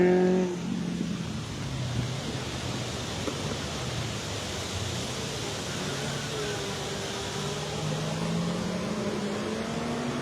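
Race car engine at a hill climb practice session in Pourville-sur-Mer, a faint distant whine that rises and falls as the car passes, set against steady background noise.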